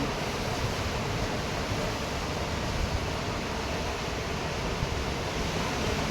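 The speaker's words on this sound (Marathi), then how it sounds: "लाता बघा कशा खडकावर आपटतात" Sea waves surging and crashing against rocks along the Mumbai shoreline at Bandstand, a steady, loud broadband roar of surf that fills the whole clip with no break and no talking.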